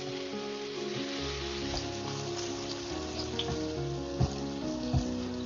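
Cheeseburger patties sizzle in a pan with a steady, even hiss and crackle, close and continuous, with a couple of brief louder pops near the end.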